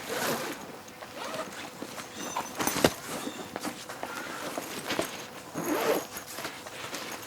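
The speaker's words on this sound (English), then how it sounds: "your zippers lock. You just push a button and they unlock." Zippers on a Neewer Pro waterproof padded DSLR camera backpack being pulled, a close rasping, scratchy run of zipping with brief pauses and a sharper click near the middle.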